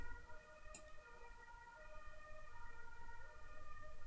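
Faint, distant ambulance siren with a steady tonal wail heard from a room, sitting under low background hum and a single brief click, no voices present.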